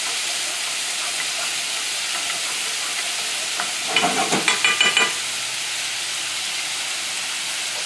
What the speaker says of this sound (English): Got this onion cooking over here.